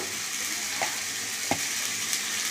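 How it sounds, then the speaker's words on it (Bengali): Spice masala frying in oil for a chicken curry gives a short, even hiss of sizzling, punctuated by two quick spoon scrapes. "এটা আগে একটু ভেজে নিই, তাহলে কাঁচা মশলার গন্ধটা যাক"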